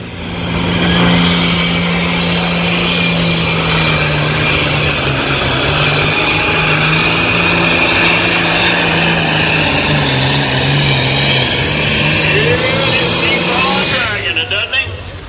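Tractor pull at the 2021 Sandwich Fair: a pulling tractor's engine roars loud and sustained for about fourteen seconds, its drone shifting slightly in pitch before dropping off at the end, with crowd and announcer sound mixed in.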